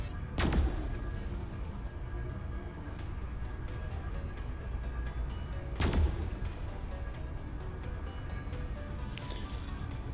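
Main turret weapon firing in the sci-fi starship game Pulsar: Lost Colony, two heavy booming blasts several seconds apart over a constant loud engine-like drone, with no voices.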